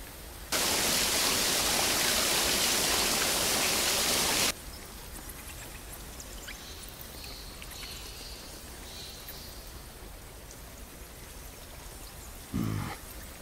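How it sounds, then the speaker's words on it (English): Batcave ambience from the LEGO Batman video game: a loud wash of rushing, streaming water fills the first few seconds, then drops to a quieter steady rumble of flowing water with faint echoing drips. "Here's the Batcave ambience."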